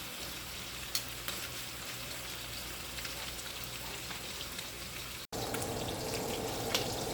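Beef short ribs fry over lowered heat, giving a continuous rain-like sizzle with scattered pops, briefly cutting out and then returning slightly louder and brighter.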